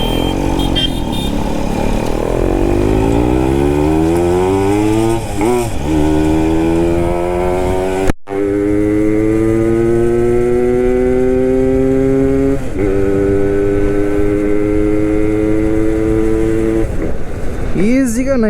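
A Suzuki Max 100 two-stroke motorcycle being ridden, its engine revving up through the gears in repeated rising sweeps. It stays loud and close throughout, with a brief dropout midway, and a rider talks over it.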